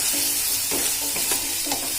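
Spices, turmeric and red chili powder, stirred into an oily frying pan for anda bhurji, a steady close sizzle with a few scraping stirs of the spoon, and no one talking.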